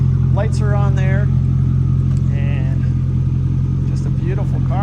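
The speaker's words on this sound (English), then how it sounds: "There's your exhaust there. Listen to that. It sounds great." A 2002 Chevrolet Camaro SS with a 5.7L V8 and open muffler idling close by, a loud steady low rumble throughout while someone talks over it.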